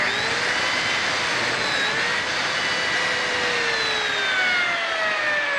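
Lamello Top 21 biscuit joiner plunging into a hand-held wooden workpiece, giving a loud, close, high-pitched continuous whine as the blade spins and cuts a slot, with no talking.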